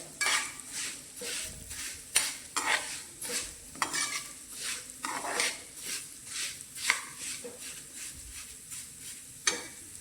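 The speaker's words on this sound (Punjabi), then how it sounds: "ਬ੍ਰਾਊਨ ਹੋ ਜਾਣ ਉਦੋਂ ਤੱਕ ਇਹਨੂੰ ਭੁੰਨਾਂਗੇ ਗੈਸ ਨੂੰ ਆਪਾਂ ਕਰ ਦਿੰਨੇ ਥੋੜਾ ਜਿਹਾ ਘੱਟ ਲਗਾਤਾਰ ਇਹਨੂੰ ਹਿਲਾਉਂਦੇ ਰਵਾਂਗੇ ਆਪਾਂ" A spoon stirs vermicelli roasting in a pan on a gas stove, making rhythmic scraping strokes about once a second over a soft sizzle, close and without voices.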